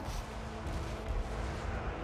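Cannon fire from an artillery battle in the fantasy strategy game Total War: Warhammer 3, heard as a dense, continuous rumble of booming shots and low roar with no clear gaps, loud and steady throughout.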